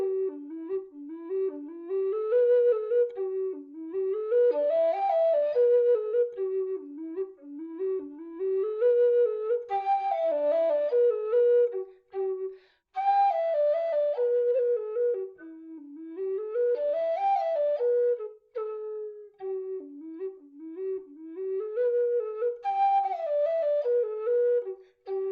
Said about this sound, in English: I'm going to play the standard black whistle and show you how it sounds.